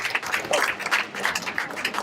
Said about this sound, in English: So let's give a big round of applause to Jillian.